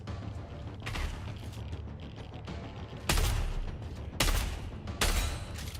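Long gun rifle fire in Dune Awakening: several sharp, loud broadband cracks, three or four spaced shots over a steady background of game ambience, with no talk.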